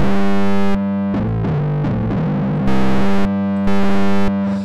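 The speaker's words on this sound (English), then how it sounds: "it has this vinyl distortion plugin here." A buzzing synthesizer lead through a vinyl distortion plugin plays sustained notes with sliding pitch changes, loud and upfront, with a gritty, crackly edge and no voices.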